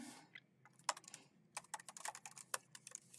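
Quick bursts of computer keyboard typing while code is entered, close and crisp clicks in uneven clusters with short pauses, quiet overall and with no voices.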